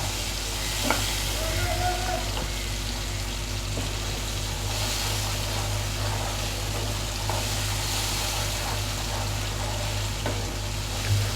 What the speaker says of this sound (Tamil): ஸோ இதை வந்து நல்லா பொரிய விடுங்க ஆயிலில்.